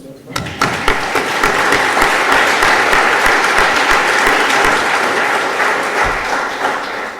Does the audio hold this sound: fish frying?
no